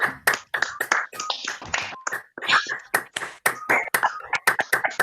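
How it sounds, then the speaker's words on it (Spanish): Scattered clapping from a small online audience comes through open microphones at the close of a talk: uneven, sharp hand claps in a steady patter that builds and thins, moderately loud, with no voices over it. "Si quieren abrir los micrófonos y nos damos un aplauso"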